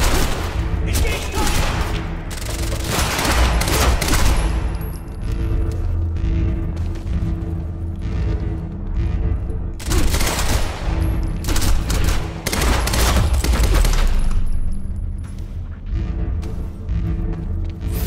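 Sustained gunfire in the video game Quantum Break: dense bursts of automatic weapons and booming shots keep up an almost unbroken barrage, with game dialogue mixed in.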